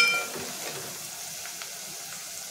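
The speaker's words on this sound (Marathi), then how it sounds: "ते छान परतून घ्यायचं आहे मसाला" Masala spices with turmeric sautéing in oil in a pan for zunka, a soft continuous sizzle close by with faint stirring, and no talking.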